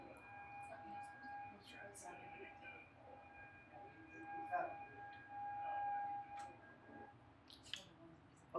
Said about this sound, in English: So that's what the siren is that goes off.